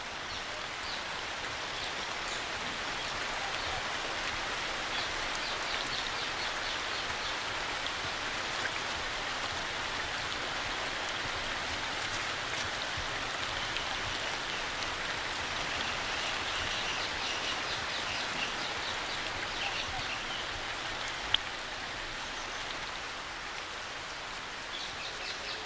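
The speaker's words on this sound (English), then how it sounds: "The downpours continue almost non-stop for a week." Heavy monsoon downpour drenching an arid region of India after months of drought, a dense, steady roar of rain falling continuously with no break, broad and close, with faint bird calls barely showing through.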